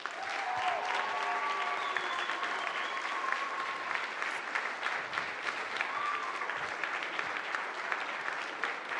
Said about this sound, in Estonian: Will.i.am, aplaus!